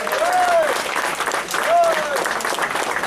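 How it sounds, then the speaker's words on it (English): Outdoor crowd applause at a Kings Park, New York Chamber of Commerce end-of-summer barbecue, a continuous clapping wash with a whistle-like tone rising twice above it. "So I'd like to have a nice round of applause for Mr."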